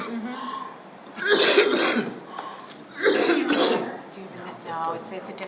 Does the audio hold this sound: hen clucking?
no